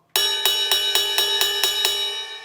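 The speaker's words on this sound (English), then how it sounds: "It's a very dull sounding bell with the tip of the stick." A Zildjian or Paiste ride cymbal bell struck eight times in a steady rhythm with the stick tip, each ping bright and close with a dull, washy sustain that fades toward the end.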